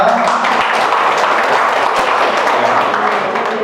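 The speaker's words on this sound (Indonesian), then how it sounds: "Lagi berikan tepuk tangan yang mulia untuk mereka." An audience at an installation ceremony for a women's organisation applauds loudly and continuously, a thick wash of many hands clapping close by.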